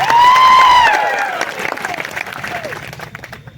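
Crowd applause at an outdoor political speech in Kavant, Gujarat, a loud burst of many hands clapping that follows a drawn-out, falling voice over loudspeakers, then thins and fades toward the end.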